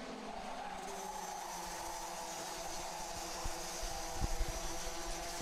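Race cars circle a track during a seven-minute-plus-one-lap qualifying heat, a steady distant engine drone with tire skids and a few louder bursts near the end.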